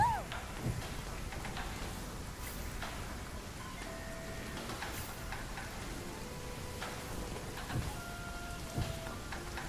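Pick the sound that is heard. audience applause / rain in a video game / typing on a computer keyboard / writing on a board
rain in a video game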